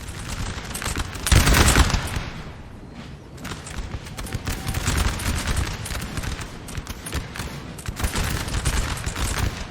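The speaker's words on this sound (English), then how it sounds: "Now we have some regular volleys over here between the French and Russian lines." Musket volleys crackle between French and Russian lines in a Napoleon Total War battle during the invasion of Russia, dense rolling fusillades with a heavy burst early on and continuous popping gunfire throughout.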